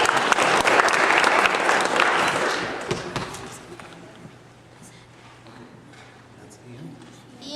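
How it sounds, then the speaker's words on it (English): Audience clapping at a Boy Scout Court of Honor, a dense round of applause for about three seconds that fades out, followed by room murmur and a speaking voice. "It's okay to applaud."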